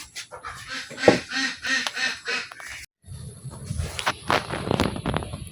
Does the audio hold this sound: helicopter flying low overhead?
no